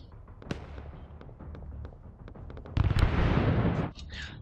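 Automatic grenade launcher (AGS) firing in the military shooter Arma 3, a run of sharp distant thumps and pops, then a louder burst of close blasts near the end.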